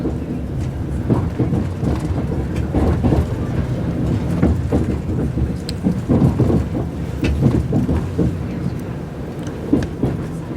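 Train arriving at Carlisle station in England, heard from on board as a continuous low rumble with rhythmic thumps and clatter, fairly loud and unbroken, without speech.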